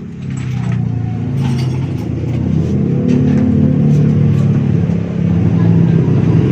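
A Motorstar motorcycle that sat in floodwater, with a clogged filter and rat-chewed wiring, runs with a loud, close, steady low engine rumble that swells slightly midway.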